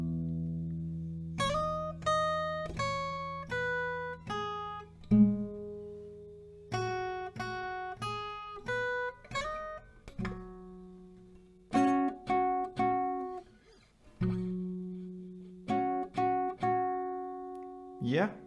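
Acoustic guitar picking out the intro of a song at a slow tempo, single plucked notes and small chords ringing clearly with pauses between phrases, no voice over it.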